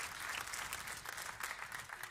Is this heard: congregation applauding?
yes